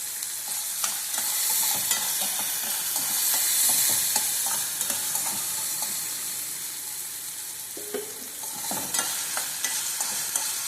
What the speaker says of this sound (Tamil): இப்போ ஒரு பச்சை மிளகாய் மட்டும் போட்டு நான் வதக்கிக்கிறேன்